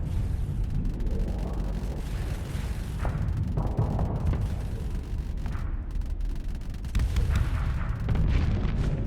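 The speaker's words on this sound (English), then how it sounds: "firing my missiles when I can" Missiles launching and exploding in a combat video game, heard as a continuous roar of booming blasts and bursts that stays loud throughout, with a heavier surge near the end.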